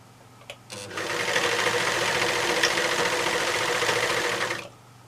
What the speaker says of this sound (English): I'm doing the seam allowance that the overlocker gives me.